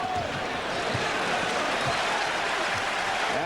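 Basketball arena crowd at a Bulls versus Knicks game, a steady loud roar of cheering and applause filling the whole moment, with faint commentary-like voices underneath.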